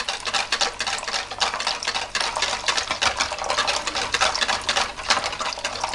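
Water cake batter with eggs, sugar and oil whisked rapidly by hand in a bowl, giving continuous loud, close scraping and tapping in a fast even rhythm with no pauses.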